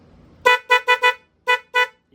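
A low-budget dual car horn honks six short blasts in an uneven rhythm, two quick bursts, then two more, a pause and two final toots, loud and close with no talk.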